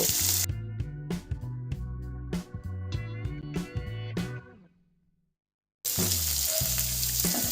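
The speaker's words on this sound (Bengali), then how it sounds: "রসুন আর কাঁচা লঙ্কাটা একটু ভাজা ভাজা হয়ে গেলেই এর মধ্যে আমি পেঁয়াজ কোচানোটা দিয়ে দেব।" Sliced onion sizzles in hot oil with garlic and green chili, a loud, close frying hiss over a tonal background that cuts out briefly to near silence before surging back.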